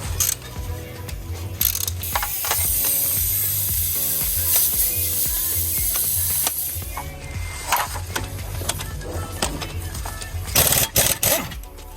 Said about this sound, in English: 5/8 ratchet.